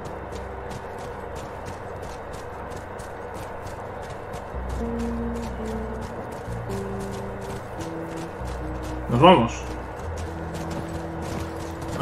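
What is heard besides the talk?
horse hooves, video game The Last of Us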